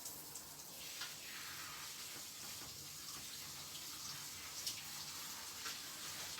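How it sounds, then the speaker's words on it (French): Cold tap water runs over rice being rinsed and stirred in a pot for jambalaya with chicken and shrimp, a soft continuous splashing wash with small clinks and swishes, fairly quiet and unbroken. "je rince mon riz tout en le mélangeant un petit peu."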